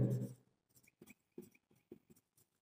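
Notes being written on a board during a biology lecture: a thump at the start, then short, faint scratchy strokes in a broken rhythm with brief pauses, and no talk over them.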